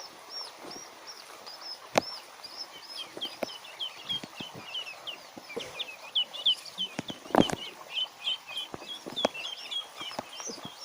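Duckling chicks peep continuously in quick, high, repeated chirps at moderate distance, with occasional rustles and knocks mixed in.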